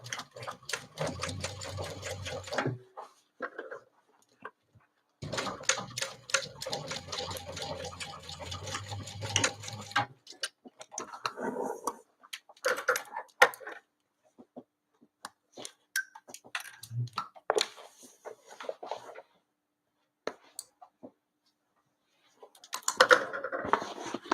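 A sewing machine stitching a seam on a tote bag runs in two long steady bursts near the start, then gives shorter intermittent runs and stops, close and moderately quiet with no talking.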